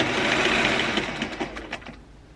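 A sewing machine stitches a decorative hem along the edge of a fabric mask, a steady close whirring hum that slows into a few separate stitch clicks and winds down toward the end.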